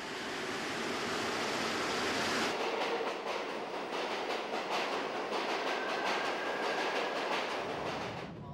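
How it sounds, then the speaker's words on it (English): A fully automatic train on the new Meteor line of the Paris subway rushes past with a steady, loud roar, a hissing wash overlaid with rhythmic clacking from the rails, then cuts off abruptly near the end. "In Paris, the French have recently built their new Meteor subway line with fully automatic trains."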